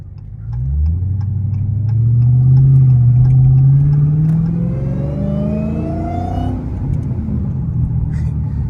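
An 820 hp Dodge Challenger Hellcat Redeye rumbles loudly up close, its deep engine note swelling as it accelerates while a rising supercharger whine climbs above it, then settling into a steadier drone.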